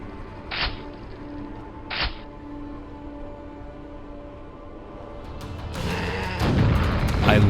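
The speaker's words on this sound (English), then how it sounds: "I love when ogres stumble." Two sharp heavy thuds land a second apart as an ogre stumbles in the video game Quake, followed by a rising rumble and clatter of crashing debris that builds toward the end.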